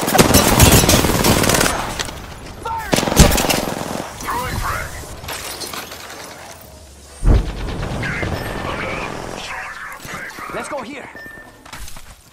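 Automatic and single gunshots from an Apex Legends battle ring out loud and close in dense bursts, then return in scattered volleys after a brief lull, with players talking over the fire.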